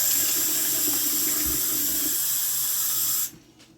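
Water runs steadily from a kitchen tap while baking oatmeal cookies, a continuous close hiss that stops abruptly near the end.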